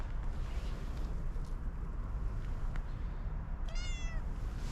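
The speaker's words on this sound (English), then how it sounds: "it paid me a visit for a little while, and just heard its little meow" A tortoiseshell cat at night on a railway platform on the Heart of Wales Line gives a single short meow near the end, faint against a steady outdoor rumble of wind.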